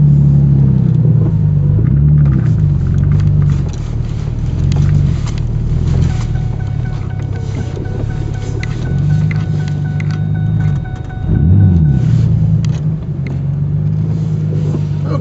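A Ford Ranger pickup truck grinds up a hill in four-wheel drive, its engine giving a steady low rumble. The sound stays loud and close, with surges of effort and no talking.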